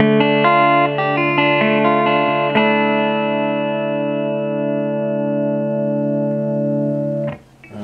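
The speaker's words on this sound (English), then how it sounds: "This is a clean channel with all of the EQ about noon with no reverb." Peavey Classic 50 guitar amp on its clean channel with EQ near the middle and no reverb, a few plucked notes and then a strummed chord ringing out loud and sustained for several seconds before being cut off.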